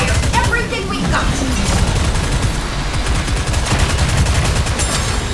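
Rapid gunfire in Goddess of Victory: Nikke during a solo raid against the Golden Kraken, a dense, continuous stream of machine-gun shots, loud and close throughout, under game voices.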